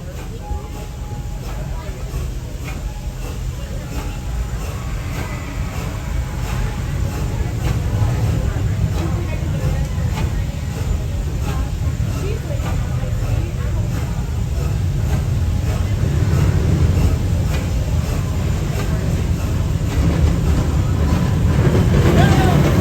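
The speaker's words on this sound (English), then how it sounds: "Please remain seated while the train pulls into the station." Serengeti Express ride train rolling steadily toward its station, a continuous low rumble and rattle of cars that grows slightly louder throughout, with faint voices mixed in.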